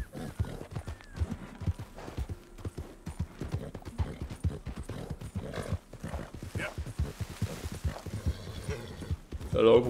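Horse hooves clip-clop steadily in Red Dead Redemption 2, a continuous galloping rhythm up close, with a horse whinnying near the end and someone talking over it.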